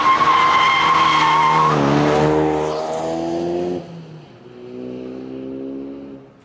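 A Ford Focus RS with a specially engineered 2.3-liter EcoBoost four-cylinder is driven hard on a race track. The engine revs loudly and rises in pitch, tires squeal and skid, then it settles to a steadier, quieter drone, with no talking.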